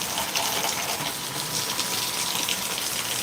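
Steady rain pours down in Panthawada under dark clouds, a dense, even hiss of falling water with no voices.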